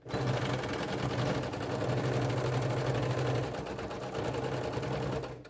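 A sewing machine runs in a fast, steady mechanical rattle, stitching a rice- or bean-filled heating pad continuously with a brief slowdown midway, close and fairly quiet.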